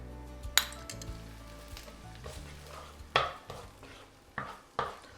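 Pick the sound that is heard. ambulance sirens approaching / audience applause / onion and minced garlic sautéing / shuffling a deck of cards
onion and minced garlic sautéing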